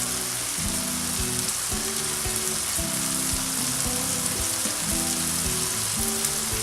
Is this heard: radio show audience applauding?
no